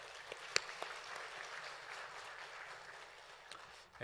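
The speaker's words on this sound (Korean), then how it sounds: "하나님께 영광의 박수 올리도록 하겠습니다" A church congregation at a Wednesday worship service gives a soft round of applause, scattered claps blending into a faint, fairly distant wash with a couple of sharper claps early on.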